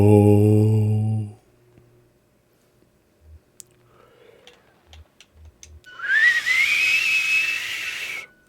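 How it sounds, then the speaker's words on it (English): In the video game Kentucky Route Zero, a whistle is blown into a tunnel mouthpiece. A low droning tone is followed by sparse clicks, then a loud, hissy, rising whistle that holds for about two and a half seconds. "That was a bad whistle."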